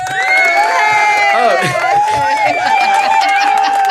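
A canned applause and cheering effect of a live audience plays on a film podcast, a crowd roar with whoops and shouts sounding bright and constant, with tonal ringing over it.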